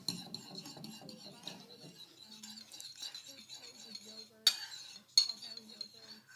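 A spoon stirs yogurt for an overnight porridge and yogurt sundae, scraping and clinking against the bowl in close, uneven strokes, with two sharper knocks near the end and no talking.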